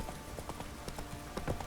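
Roach the horse trotting in The Witcher 3, a quick run of clip-clopping hoofbeats, close and moderately loud, with no voices.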